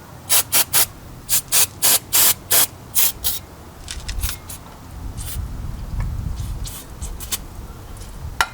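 Short loud bursts of aerosol cleaner hissing onto Honda S2000 brake parts during a pad change, about a dozen quick sprays in a row, then softer rubbing and handling noises with a few more sprays near the end.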